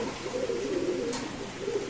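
Low, soft pigeon coos roll on continuously nearby at a pigeon market, under a faint background hiss.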